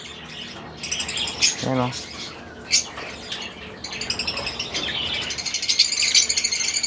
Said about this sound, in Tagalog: Ito yung mga sisiw.